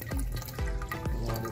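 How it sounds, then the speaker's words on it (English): Water runs through the pipe of a home hydroponic system for growing bell peppers, a steady close splashing flow with a few recurring gurgling surges, no talking. "That's how much water is going through there."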